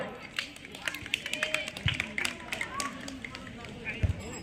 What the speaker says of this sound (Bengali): আশরাফি খাতুনের জন্য একটু হাততালি সবাই।